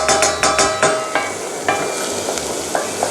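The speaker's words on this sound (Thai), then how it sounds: "ผมใช้ไฟอ่อนผัด หอม นะครับ ให้มันนิ่ม" Shallots sautéing on low heat in a pan for tomato pasta sauce, a soft steady sizzle broken by a run of quick metallic taps and scrapes of the utensil against the pan, close up.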